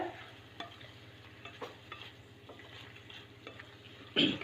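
Onions with paste being stirred and roasted in a pan for soya chilli paneer, a soft steady sizzle under intermittent scrapes of the spoon, ending with a louder clatter.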